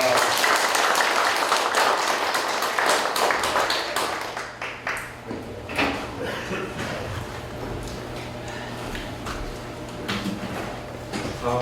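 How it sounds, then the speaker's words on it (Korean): An audience applauds to welcome a guest lecturer on local history at a guide-training class, with loud clapping for about four seconds that thins into scattered claps, shuffling and room noise. "우리 관장님 박수로 맞이하겠습니다"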